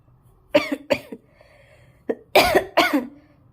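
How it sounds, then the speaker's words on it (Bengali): A person with a recurring cough gives several sharp, close coughs: two quick ones, a small throaty catch, then two heavier bursts, with no speech around them. "আমার বারবার কাশি হয়ে যাচ্ছে"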